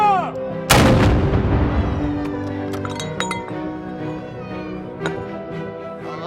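A volley of guns fires a salute at a liberation celebration in the Netherlands, one sharp, loud blast that rolls off into a long echoing decay, followed by faint metallic clinks and distant crowd murmur.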